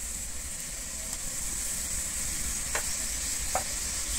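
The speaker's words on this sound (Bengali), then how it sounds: "আমি আদা কাঁচা লঙ্কাটা দিয়ে কিন্তু খুব ভালোভাবে আবারও কষিয়ে নেব" Ginger and green chili paste fry with browned onions in a steady, bright sizzle, with two brief scraping stirs of a spoon as the mixture cooks down.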